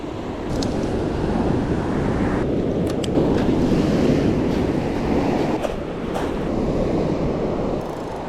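Waves from an incoming tide wash onto a New Zealand shore during fishing, a continuous loud rushing surf with wind buffeting the microphone and no speech.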